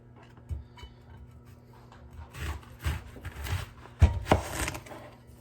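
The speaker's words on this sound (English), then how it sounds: "finally chop it with the chef knife" A chef knife cross-chops food on a cutting board, a burst of quick, close thuds and knocks in uneven rhythm, quiet at first and then sharper, with no talking.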